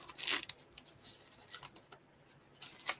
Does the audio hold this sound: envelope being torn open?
yes